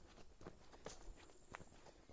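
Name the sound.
footsteps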